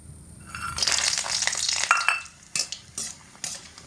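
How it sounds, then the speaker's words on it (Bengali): Lentil dumplings (bori) drop into hot oil and fry with a loud hissing burst that settles into sizzle, then a few sharp scrapes and knocks of a utensil against the pan, with no voices. "একই রকমভাবে বড়িগুলোকেও একই তেলে দিয়ে ভেজে নেব"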